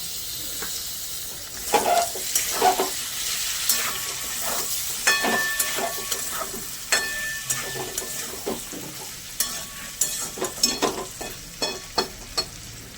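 Spice paste with chopped tomatoes frying for a banana flower curry, a steady hiss of sizzling broken by repeated sharp clacks and scrapes of a spoon against the pan at an uneven rhythm.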